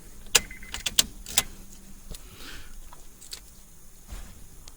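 Key being turned off and pulled from the ignition of a Honda Fit, CR-Z Hybrid or Insight, a few close sharp metallic clicks and key jingles followed by faint handling sounds.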